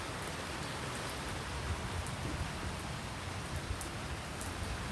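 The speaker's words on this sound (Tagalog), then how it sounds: "Malakas ang ulan." Heavy rain pours as a constant, dense hiss over a cloudy, dark sky, steady and fairly loud, with no distinct thunder and no talking.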